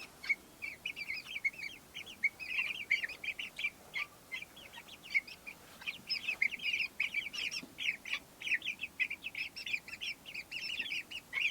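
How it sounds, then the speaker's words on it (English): Chickens on grass for the first time, clucking and chirping in a steady busy chorus of short bright calls, moderately close, with no talk. "Now they can start doing chicken things, like peck the ground and peck on bugs."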